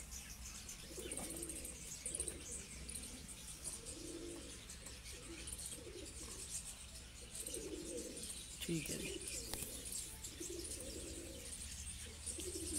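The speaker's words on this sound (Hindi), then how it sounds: "ये जी F16 कबूतर है" F16-breed pigeons coo in soft, repeated low bursts close by over a steady outdoor hum, with faint chirps in the background and a brief spoken remark.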